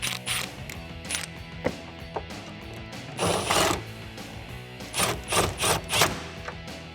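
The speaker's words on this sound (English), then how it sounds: "get our bolt started up top here. We'll tighten that down." A hand ratchet tightens a bolt on a kick panel bracket inside the trunk of a 2010-2014 Ford Mustang coupe, giving several short bursts of rapid clicking separated by pauses, close and clear.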